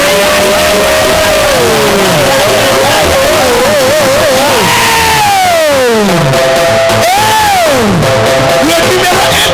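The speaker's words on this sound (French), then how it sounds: "acclamons pour le bulldozer des bulldozers" Large crowd at a religious gathering cheering loudly, with whoops, shouts and rising and falling cries layered over a dense continuous roar, close and sustained throughout.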